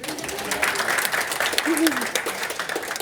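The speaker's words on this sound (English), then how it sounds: "so a big round of applause, everyone" Audience applause at a transit technology conference, a steady dense patter of many hands clapping throughout, fairly close, with a voice briefly cutting through the middle.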